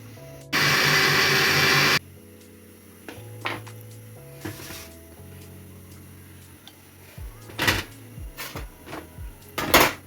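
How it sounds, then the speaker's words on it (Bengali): An electric blender whirs loud and steady for about a second and a half while mixing sugar and powdered milk, then cuts off, followed by scattered kitchen clatters and knocks. "এটা এখন ব্লেন্ড করে নিব"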